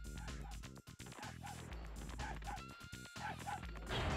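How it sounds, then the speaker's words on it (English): Dog barks from the Spyro: Year of the Dragon game sound out as a series of short, rhythmic yips over layered game music and effects, fairly loud and repeated several times. "I wonder if the person can hear the dog's barks"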